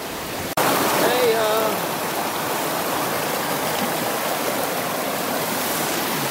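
A stream rushes by a bridge on a hiking trail near Santa Barbara campgrounds, a loud, close, continuous watery roar that starts abruptly after a brief bump, with a faint whistling tone early on.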